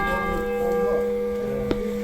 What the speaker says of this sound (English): she's ringing the bell for you